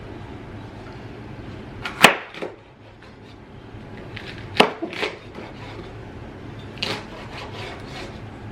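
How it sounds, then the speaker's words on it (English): Knife chopping de-seeded poblano peppers on a cutting board in a home kitchen: a few sharp, isolated thuds with softer scraping between them, close and otherwise quiet. "I'm going to de-seed the peppers and chop them up."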